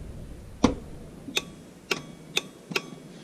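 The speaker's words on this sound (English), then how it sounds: "I don't have power going to the ECU at the moment, but you can hear the relay." A car ignition relay on a newly installed chassis harness and fuse panel clicks five times, sharp, dry snaps spaced irregularly and close up against a quiet background.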